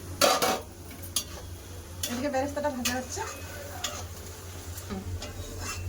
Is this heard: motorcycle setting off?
no